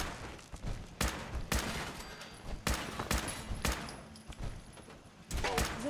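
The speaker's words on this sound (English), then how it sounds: "Returning fire." Gunfire in Fallout 4 comes as scattered loud, sharp shots and short bursts, irregularly spaced over a steady background hum, near and punchy.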